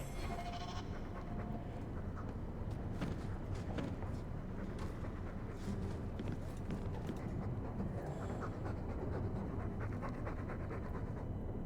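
A dog in the video game Dragon Age II pants loudly and steadily in rapid rhythmic breaths, with faint background game noise beneath it.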